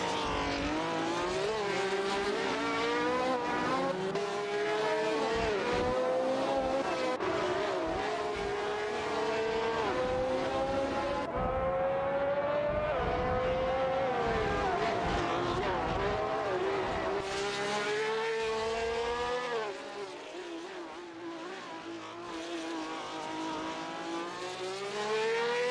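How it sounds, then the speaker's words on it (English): Race cars speed away in a video game race, engines whining and rising in pitch through gear changes, several cars overlapping and fading, loud and continuous for the whole stretch. "Racing car dashing away."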